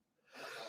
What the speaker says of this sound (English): Uh-oh, I feel a sneeze coming on.